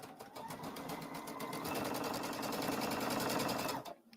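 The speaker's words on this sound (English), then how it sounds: "So now we can go ahead and we can sew chain piece and do these" A sewing machine chain piecing quilt blocks runs in a steady rapid stitching whir, close and continuous, speeding up slightly midway before stopping abruptly near the end.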